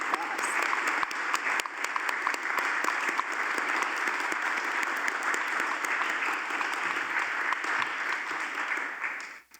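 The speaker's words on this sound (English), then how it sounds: "So I'd like us to take just a moment to give them a special applause." A conference audience at a nuclear forum at Tennessee Tech University gives sustained applause, a dense, even wash of many hands clapping that holds steady before cutting off at the end.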